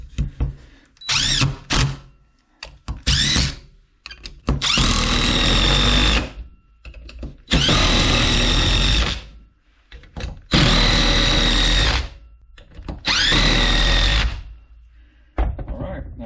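A Dewalt 1/4-inch impact driver, repaired with new brushes and armature, drives screws of 1 5/8 to 3 inches in several loud bursts of motor whine and hammering, separated by short pauses after a few quick trigger taps.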